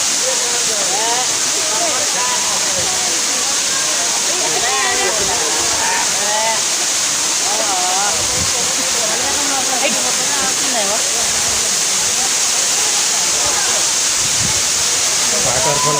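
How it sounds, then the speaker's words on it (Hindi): Pradhanpat waterfall in Deogarh pouring from a height, a steady broadband roar of falling water with splashing and some wind on the microphone, continuous and fairly loud throughout. "वाटरफॉल कितना हाइट से पड़ रहा है देखिए।"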